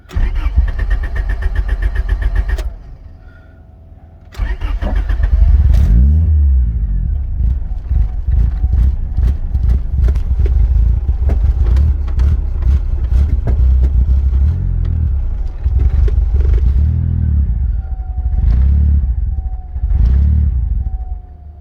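A turbo B18 Honda Civic engine cranks and fires after a brief pause, then runs with a rough, uneven idle and repeated revs and bursts of throttle, loud and close.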